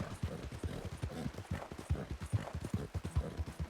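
Horse hooves gallop in Red Dead Redemption 2, a fast, rhythmic run of close, thudding beats with no voices over them.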